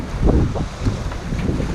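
Wind buffets a sailboat racing in the 2018 Transat across the Atlantic, blowing around 18 to 19 knots, gusty rumbling microphone noise with irregular bursts, close and loud throughout.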